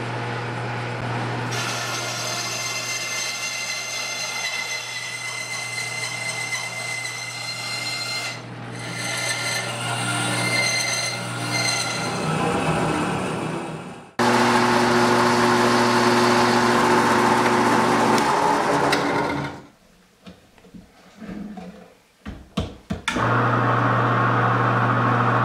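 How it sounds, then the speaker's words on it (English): A bandsaw cuts through aluminum in a workshop, a loud, steady grinding whine over a low motor hum that drops briefly, then resumes and stops near the end. "making a cut on aluminum on the bandsaw is not a huge deal"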